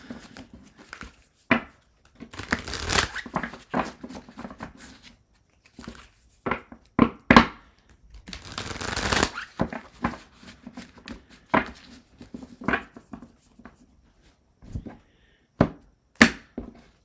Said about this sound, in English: I'm going to shuffle and move into Virgo